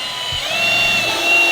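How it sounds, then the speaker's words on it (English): A power drill bores a hole through a vehicle's mud flap on a four-wheeling trail, with a loud steady whine that rises in pitch after a short start-up thump. "So what I'm doing is I'm drilling a hole here"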